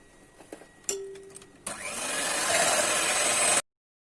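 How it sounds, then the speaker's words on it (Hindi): A hand blender whirs into buttermilk mixed with spices, starting abruptly after a few small kitchen knocks, rising into a loud steady buzzing drone for about two seconds, then cutting off sharply into silence. "इसको फटाफट ब्लेंडर से एक बार चला देती हूँ।"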